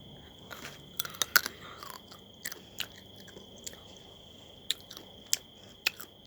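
Crisp bites and crunches come from someone chewing crunchy tom yum flavored nuts up close: a dozen or so sharp, irregular cracks over a quiet background with a faint steady high tone, and no talking.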